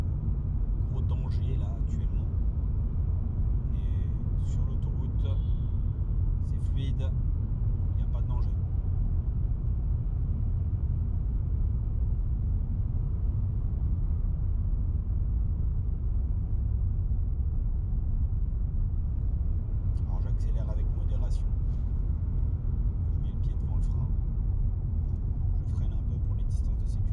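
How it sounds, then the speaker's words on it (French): Inside a driving-school car cruising on a motorway, a steady low road and engine rumble continues without a break, with brief faint voice-like bursts near the start and again near the end. "Actuellement, on est sur l'autoroute"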